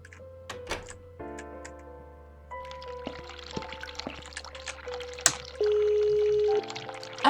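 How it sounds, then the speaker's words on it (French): Water runs from an open tap in the video game The Cat Lady, a steady pouring wash mixed with game music, soft clicks and ticks, and no voices. "Il y a le robinet qui est ouvert."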